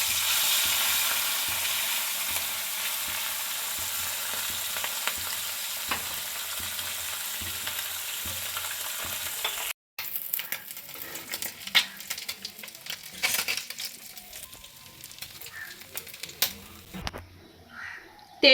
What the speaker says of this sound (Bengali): তেল গরম হয়ে গেছে, মাছগুলো এবার ভাজবো।